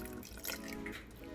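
Low-fat 1% milk pours quietly into a blender container with a soft, continuous liquid trickle and splash lasting about a second.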